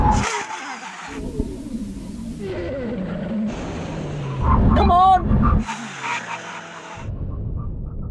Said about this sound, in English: We're going to do a brake test from 100 miles an hour. When we reach the line, full emergency stop.